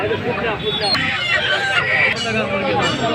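Country chickens at a busy village poultry market on a winter morning cluck and call continuously and close by, while people talk over the birds.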